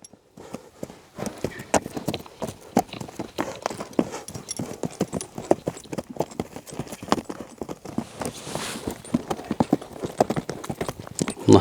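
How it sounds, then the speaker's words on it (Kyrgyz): A black horse gallops and trots along turns, its hooves clip-clopping in a fast, steady rhythm that continues for the whole stretch, close and clear with outdoor ambience. "Мына атырылган кара ат."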